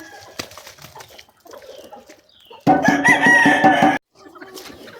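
Chickens cluck softly throughout, then a rooster crows loudly and close for over a second before the clucking resumes.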